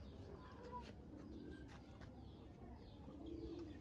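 A pigeon coos softly and briefly amid low, rumbling background noise, with faint chirps from other birds nearby.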